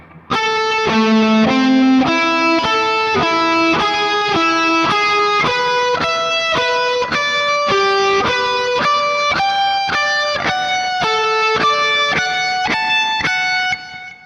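Electric guitar with a driven, slightly distorted tone playing a steady chord progression, each chord struck repeatedly in an even rhythm, close and loud throughout.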